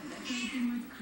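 A hungry pet cat meows in a single drawn-out, wavering cry lasting about a second, close and fairly loud.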